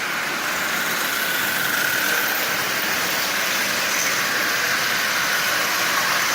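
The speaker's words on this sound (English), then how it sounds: "And it's running nice and smooth, so there's no issues with this engine at all." A Marx 999 toy train engine runs at about 60% power, giving a steady, loud, close whirring motor hum mixed with a continuous rattling rush that holds level throughout.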